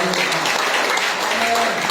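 A church congregation applauds during a Sunday anniversary service, a steady dense wash of clapping filling the room for the whole moment, with a little voice mixed in.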